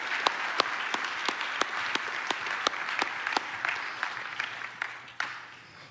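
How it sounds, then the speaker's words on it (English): A church-style audience gives a round of applause, a dense wash of many hands clapping with sharp individual claps standing out. It keeps a steady level, then thins out and fades toward the end. "Would you give these guys a round of applause as they have a seat this morning?"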